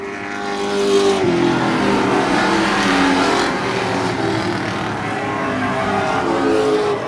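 Race cars in a 2023 season race on a track, loud engines roaring past with shifting pitch and a sudden gear change, the blended rush of several cars sustained throughout.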